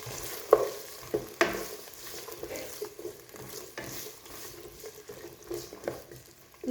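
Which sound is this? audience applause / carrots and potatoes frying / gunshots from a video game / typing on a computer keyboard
carrots and potatoes frying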